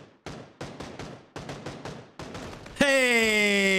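Mini-14 rifle fire in a PUBG match, a run of sharp single shots in quick irregular bursts, followed by a sudden loud ringing, rising tonal sound that cuts in and holds.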